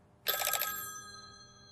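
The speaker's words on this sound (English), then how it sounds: "Answer the phone." A single short burst of an electronic telephone bell rings brightly, then its tone fades away into silence.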